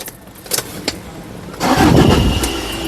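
A 2015 Toyota Fortuner 4x2 manual catches on one short crank and settles straight into a steady, close diesel idle, after a few quiet clicks and taps.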